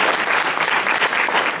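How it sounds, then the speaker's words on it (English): A short, dense burst of audience clapping at a cosmetology training event, steady and fairly loud for its whole length. "give us a little clap"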